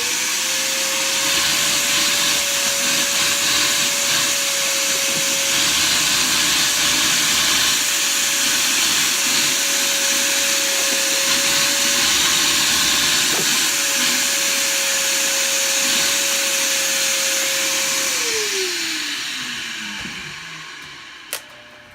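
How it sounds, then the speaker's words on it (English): A vacuum cleaner runs steadily and loudly up close while cleaning a floor monitor speaker being rebuilt, a sustained whining hiss with a constant motor tone that winds down in pitch near the end as it switches off. "let's hit it up with the vacuum again"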